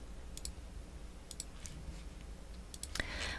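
A few sharp mouse clicks while working in CLO 3D garment design software, sparse and close, spaced irregularly over a low steady hum, with a louder pair near the end.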